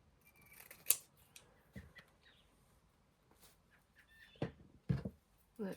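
Scissors snip through newspaper close by, a few sharp, irregularly spaced crisp cuts and rustles with quiet pauses between them.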